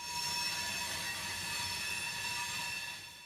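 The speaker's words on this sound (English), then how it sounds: "it's still a moving train and a very loud one" A loud freight train rounding a curved connection track at a railroad junction, with sustained, high-pitched wheel squeal and steady rolling rumble throughout, fairly close.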